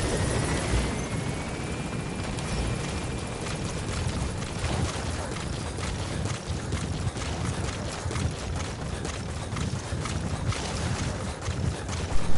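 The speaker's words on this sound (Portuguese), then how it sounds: "Tem um helicóptero" Helicopter flying in the video game Metal Gear Solid V: Phantom Pain, a steady rotor drone with airy wash that holds at an even, fairly loud level throughout, with no voices over it.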